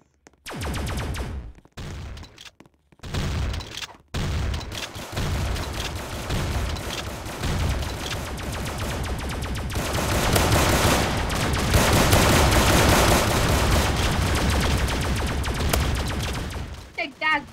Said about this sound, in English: Get my shotgun now. Let's go kill some zombies.